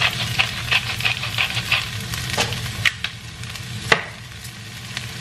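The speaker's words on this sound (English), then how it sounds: "gonna fry up this onion until it gets caramelized, and then I'll throw in the hash browns over the top" Onion and hash browns fry in a pan, giving a close, crackling sizzle, with a few sharper scrapes and taps from stirring breaking through the steady hiss.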